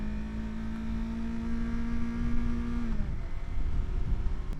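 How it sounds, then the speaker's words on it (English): A motorcycle engine hums at a steady pitch, then drops on a downshift around the three-second mark and carries on with a rougher, louder drone. "what I do is I squeeze, I downshift, give the gas, and let go"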